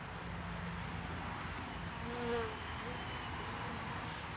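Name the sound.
honey bees buzzing around a feeder bucket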